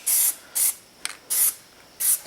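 A spray can lays a thick coat of black-capable plasti dip onto a cap in five short, sharp hissing bursts, close and loud, separated by brief pauses and one quick tap.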